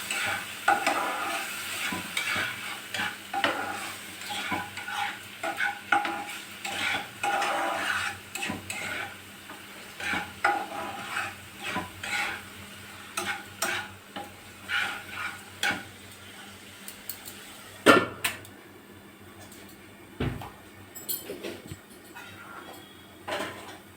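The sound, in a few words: sautéing cauliflower mixture in a pan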